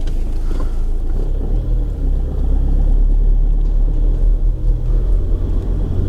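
A 2014 Fiat Ducato van with the 2.3 engine pulls away, giving a loud, close, steady low rumble that holds evenly without a break.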